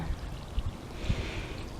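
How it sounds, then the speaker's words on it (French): A slowly flowing brook gurgles and trickles steadily close by, a soft continuous wash of water with small low splashes, no voices. "le ruisseau, hein. Coule bien lentement."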